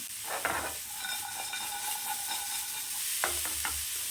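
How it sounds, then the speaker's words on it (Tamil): Coconut pieces and gram being lightly dry-roasted in a pan for mutton gravy, a steady soft sizzle with scraping stir strokes near the start and end, no voices. "இதை நல்லா லைட்டாக ஒரு வறுப்பு வறுத்துக்கோங்க"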